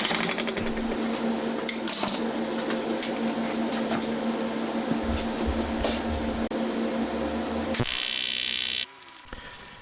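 Build-up welding on the cam chain side cover lid of a CD125-four engine project based on a Honda Monkey: a steady electric welding buzz with a low hum and crackle runs continuously, then shifts to a brighter hiss near the end.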